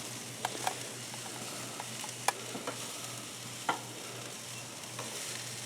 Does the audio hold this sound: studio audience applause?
no